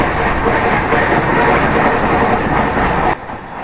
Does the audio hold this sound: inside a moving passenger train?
yes